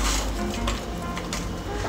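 Whole spices for a sambar premix dry-roasting over a slow flame, scraped and stirred steadily in a pan, giving a close, continuous dry rustle and soft sizzle with faint clinks throughout.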